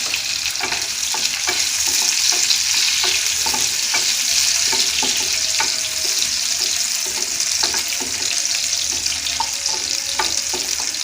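Raisins and cashews fry in hot ghee with a continuous bright sizzle, broken by regular scraping ticks of a spoon stirring in the pan, steady and close with no talking.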